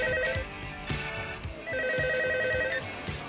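An old-style telephone bell rings in repeated bursts, two clear trilling rings over a rhythmic background beat, moderately loud and close.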